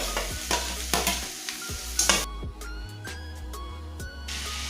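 Onions and tomatoes fry in a pan, with a steady sizzle under repeated scraping stirs and light clinks. Stirring is sharpest at the start, then easing into a softer hiss.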